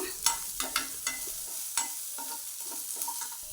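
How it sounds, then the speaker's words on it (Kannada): Chopped onions frying in a pan while being stirred for vermicelli upma, a steady sizzle broken by repeated scraping strokes of a spoon against the pan, close and clear with no voices. "ಈಗ ಕಟ್ ಮಾಡಿದ ಈರುಳ್ಳಿಯನ್ನು ಹಾಕ್ಕೊಳ್ತೇನೆ ಇದನ್ನು ಸಹ ಸ್ವಲ್ಪ ಹೊತ್ತು ಫ್ರೈ ಮಾಡ್ಕೊಳ್ಳೋಣ"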